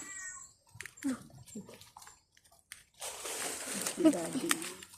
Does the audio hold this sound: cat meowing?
yes